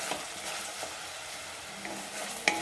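A spice paste of garlic, green chili and ginger sizzles steadily in a pan while being stirred, with a soft continuous fry and a few faint scraping clicks.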